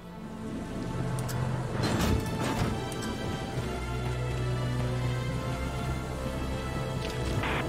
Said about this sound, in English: What a terrible storm.